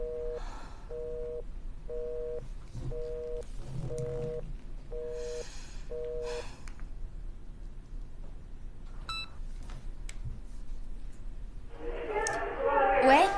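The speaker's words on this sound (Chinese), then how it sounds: "你给苏春打个电话" A telephone call is dialed in a Chinese TV drama, giving seven evenly spaced, identical beeps of a busy-type tone, then a few scattered clicks and a louder burst of noise at the end.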